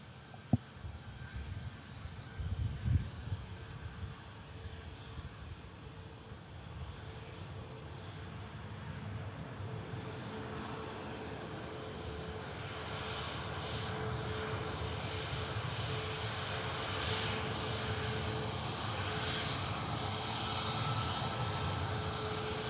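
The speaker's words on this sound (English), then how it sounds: "it looks like the KLM that was number 3 in the queue back for Amsterdam is going to go out first" A KLM airliner departing Manchester Airport for Amsterdam builds from a distant hum into a steady, swelling engine roar that fills the last half of the take-off run, heard alone without talk.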